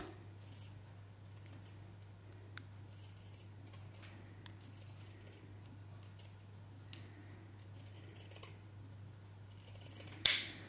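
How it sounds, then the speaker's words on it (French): Scissors notch fabric seam allowances during a small sewing project, giving a few faint, soft snips over a steady low hum, then one sharp, close snip at the end, with no talking. "Maintenant, je vais venir cranter."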